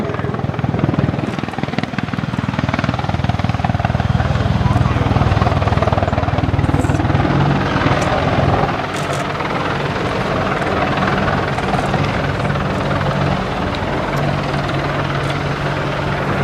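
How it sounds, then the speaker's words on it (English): A loud British Army Apache attack helicopter roars close by during an air show display at RAF Fairford, its rotors thumping and its engine whining steadily throughout, with no gaps or fading. "the British Army Apache attack helicopter"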